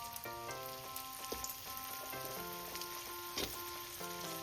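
Potato pieces go into hot oil seasoned with turmeric, giving a soft, crackly sizzle with small pops, fairly quiet and continuous, over a faint tonal background.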